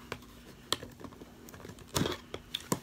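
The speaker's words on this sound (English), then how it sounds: "I'm trying to open this box." Scissors cut and tear at a cardboard priority shipping box, giving sharp intermittent snips, crinkles and scrapes at close range in a quiet room.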